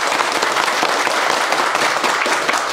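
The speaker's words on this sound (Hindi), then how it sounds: "तो एक बार सर के लिए जोरदार ताली बजाइए भाई" An audience of students at a mobile phone repair training class applauds their instructor with sustained, loud, dense clapping that continues evenly to the end.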